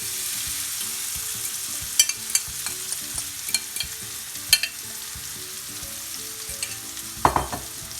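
Chopped onions fry and sizzle in hot ghee over a medium-high flame while making spinach palak; a steady loud crackle runs throughout, broken by a few sharp clinks and scrapes of a stirring utensil.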